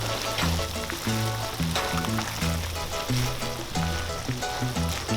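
A pot of Filipino paklay stew, a pulutan dish, bubbling at a rolling boil as lemongrass goes in: a continuous close sizzling burble with a low drone running underneath, heard alone.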